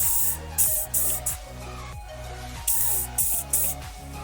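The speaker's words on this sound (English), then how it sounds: "I'm going to spray WD-40 on it just in case anyway" WD-40 is sprayed onto a rounded bolt on a Mini R50-R53 during a tie rod change, in several short hissing bursts of about half a second each, with brief pauses between them.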